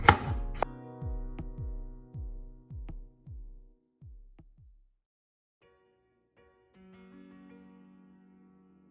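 A knife chops jalapenos on a cutting board in a quiet kitchen, about a dozen crisp thuds each followed by a short ringing tail. The strikes come in a loose, slowing rhythm and fade out partway through, then silence.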